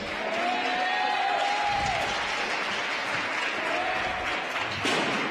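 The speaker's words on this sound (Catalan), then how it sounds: "Surt de pista Vinyet Juncà, aplaudida pel Jaume Pereira León, i torna a entrar la portera habitual, Paula Lladó" Spectators in an indoor arena applaud a departing goalkeeper at a women's league hockey match between CH Mataró and PHC Sant Cugat, a steady wash of clapping with faint crowd voices and a brief tonal call over it.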